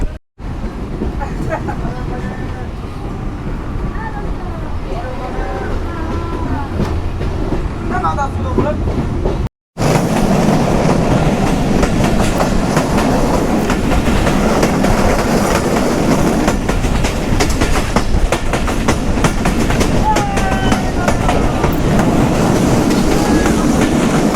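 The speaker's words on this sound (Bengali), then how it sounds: "আমাদের ট্রেনটি ফুলতলা রেলওয়ে জাংশন থেকে ছেড়ে যাচ্ছে" A passenger train rumbles steadily along the rails with rhythmic clickety-clack, loud and continuous, with faint voices in the carriage early on, leaving Phultala junction on the Mongla to Jashore line in Bangladesh on a rainy day.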